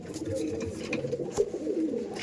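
Madrasi pigeons coo in low, overlapping murmurs, up close against steady background hum, with no voices.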